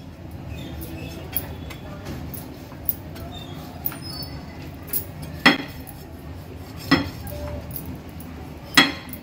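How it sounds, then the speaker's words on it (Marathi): A knife cuts slits into a pomfret fish on a board. Quiet scraping leads into a few sharp, close clicks and taps, spaced a second or two apart, with the loudest strikes coming near the end. "नंतर इथे असे हे कर्वे पाडून घ्यायचे"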